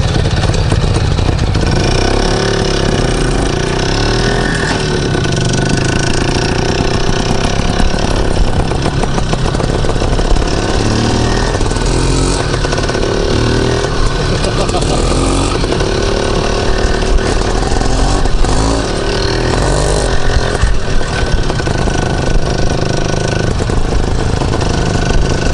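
An IZh Planeta motorcycle's two-stroke engine buzzes loudly while riding, a raspy continuous drone that rises and falls with throttle, recorded up close with wind noise.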